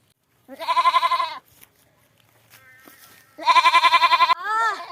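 A goat bleats close by in two loud, wavering bursts separated by a quiet pause, with a shorter bleat trailing the second call; the surroundings are otherwise near-silent.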